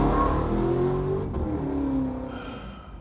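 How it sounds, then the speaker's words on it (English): A loud car engine drones steadily with a rising pitch like revving or accelerating, fairly close and fading slightly toward the end. "loud ass car still ain't going nowhere"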